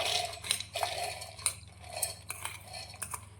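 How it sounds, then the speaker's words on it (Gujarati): Soaked mung beans are tipped into a mixer jar with a spoon, making a series of light metallic clinks and scrapes against the jar at an irregular pace, close and fairly quiet. "અને પલાળેલા આ મગને આપણે મિક્સર જારની અંદર લઈ લઈશું"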